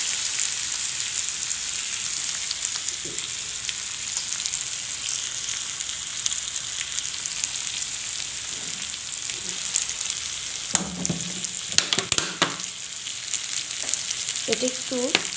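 Spices sauté and are stirred in a pan, a steady bright frying sizzle throughout with clattering utensil scrapes toward the end.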